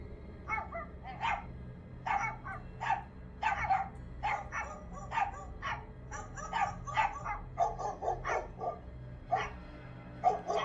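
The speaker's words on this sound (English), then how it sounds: "My dog Buster started barking from the living room along with my neighbor's dogs." Several dogs bark at night, an indoor dog joining neighboring dogs outside, in repeated short yapping bursts spread across the whole stretch at moderate distance, with a low steady hum underneath.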